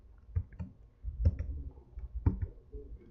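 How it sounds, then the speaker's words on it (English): Keys tapped on a computer keyboard while typing in a Greek layout: a few separate clicks spaced out with pauses, fairly close and moderately loud, with no voices. "I can simply start typing"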